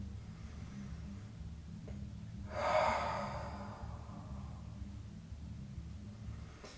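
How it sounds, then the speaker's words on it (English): A single audible breath out through the mouth during a yoga session, about a second long and moderately loud, set over a steady low hum of background music or room noise. "sometimes breathing through the mouth is very helpful"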